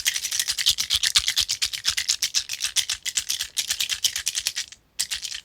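A mini liquid-filled boba cup squishy toy, keychain removed, squeezed over and over in a fast, steady rhythm of crisp squishing clicks, close and fairly loud, with a brief pause near the end.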